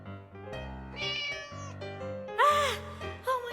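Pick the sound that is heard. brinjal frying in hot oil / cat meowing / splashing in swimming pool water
cat meowing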